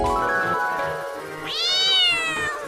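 A cat meows loudly and close, two drawn-out tonal cries, the second rising higher and brighter, in a Hindi comedy sketch where a monster becomes a cat; no talk during the sounds.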